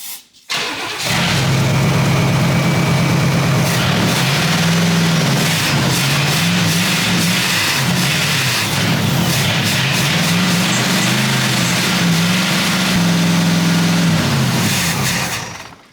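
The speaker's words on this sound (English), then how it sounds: "The 77 Pontiac Grand Safari runs." A 1977 Pontiac Grand Safari station wagon, abandoned for decades, cranks and its engine runs loudly and roughly with a wavering, surging idle, close by and steady throughout with no talking.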